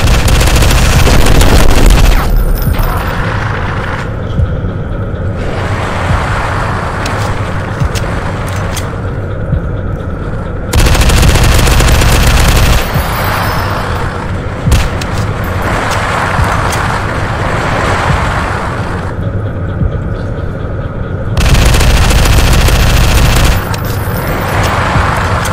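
Gunfire in a video game aimed at nearby enemies, loud sustained shooting in long bursts with brief lulls, dense and continuous over several seconds.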